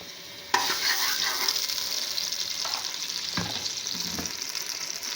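Ghee hits a hot pot and flares into a sudden loud sizzle that settles into a steady crackling hiss, with a few stirring clinks along the way.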